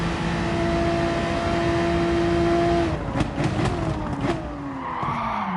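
Car tyres skid and squeal under braking while cornering at the Red Bull Ring in Gran Turismo Sport, a steady engine drone giving way to scrubbing, wavering screeches as the car slides, loud and close with no talk.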